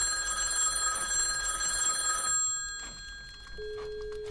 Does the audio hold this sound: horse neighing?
no